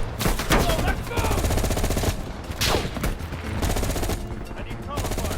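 Rapid automatic gunfire and repeated shots from the Call of Duty Black Ops Cold War campaign on PS5, loud and dense throughout, layered with battle noise and game music.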